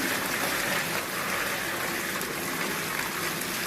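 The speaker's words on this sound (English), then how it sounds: "this side of the bucket we will pour some water" Water gushes steadily into an SA100 Clean Sweep mop bucket, a dense, continuous rushing splash that sounds close and loud throughout, with no talking.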